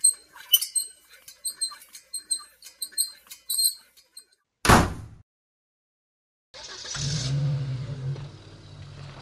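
A door shuts with a single sharp knock partway through as a character leaves, following a run of clicking, squeaky sounds, then a short silence and a steady low hum.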